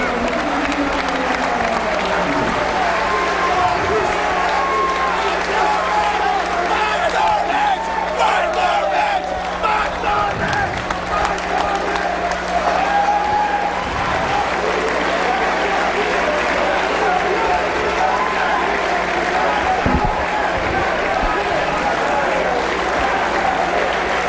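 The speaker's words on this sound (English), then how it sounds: "Match of the year, the crowd's chanting it." A large indoor wrestling crowd cheers, claps and chants in rhythmic bursts, loud and continuous, with commentators' voices faintly underneath.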